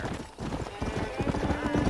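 A horse gallops with rapid, loud hoofbeats and a whinny in the Western video game Red Dead Redemption, with a voice speaking over the hooves.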